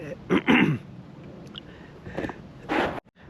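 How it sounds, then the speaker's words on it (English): A few short, rough bursts of coughing, close by, with a brief pause between them and a final harsher cough near the end. "sorry about that coughing, man. The pollen is getting me."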